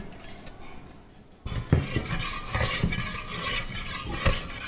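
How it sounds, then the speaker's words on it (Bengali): A spoon stirs chopped nuts into a pot of hot saffron milk for mango kulfi, scraping and clinking against the metal pan in a few irregular knocks after a quiet start, with no voices. "কুচিয়ে রাখা বাদামগুলো দুধের সাথে মিশিয়ে দিচ্ছি।"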